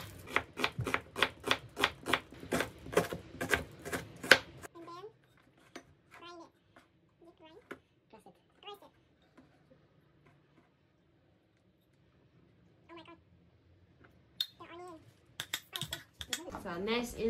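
Knife chopping an onion on a cutting board, a quick run of sharp evenly spaced chops at first, then sparse scattered cuts and quieter handling with a voice near the end.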